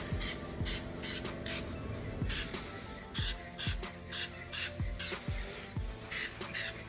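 Bursts of aerosol spray coat pitted chrome wheels in gloss black, a run of short hissing blasts spaced irregularly, close and fairly loud, with faint clanks between them.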